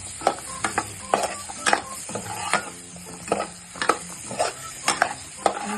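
Stuffed Maharashtrian eggplant fries in a pan, a soft sizzle broken by repeated scraping and clanking strokes of a spoon stirring against the pan, close up and without speech.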